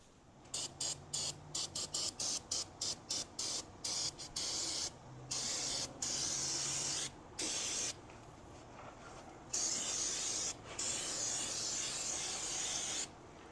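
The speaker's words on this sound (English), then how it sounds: "Loosen that stuff up with that brake cleaner, and then we're just going to go in and rub it down." Brake cleaner is sprayed on the engine block of a Big Cam Cummins, first as a string of quick short aerosol bursts, then as longer sustained hissing sprays, close and loud with no talking.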